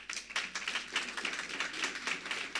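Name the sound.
audience applause as a panelist walks up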